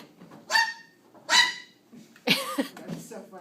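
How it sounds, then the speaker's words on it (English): A dog barking inside the Rainforest Cafe restaurant, three short sharp barks spaced about a second apart and heard close, with faint room chatter underneath. "It's barking like a dog."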